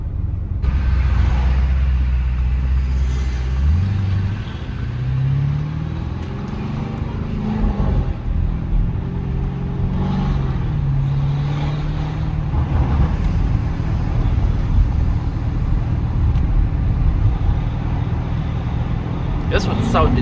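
Deep, steady exhaust rumble from a Novitec-tuned Lamborghini Urus with a loud custom exhaust, heard from inside while driving, with rising and falling engine tone through gear changes and people talking over it at times.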